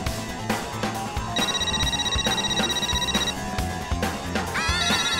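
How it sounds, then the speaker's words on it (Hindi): A telephone rings with bright electronic trills over a loud, busy music bed, the ringing tone repeating steadily throughout. "माधवी का फोन"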